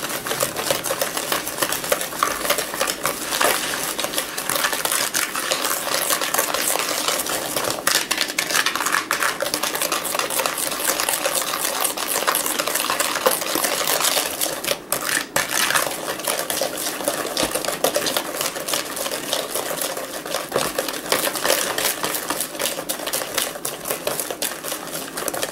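Eggs and brown sugar whisked by hand in a bowl for zucchini bread batter, a fast continuous rhythmic clatter of utensil against the bowl sustained close and loud throughout.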